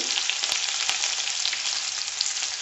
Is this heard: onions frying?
yes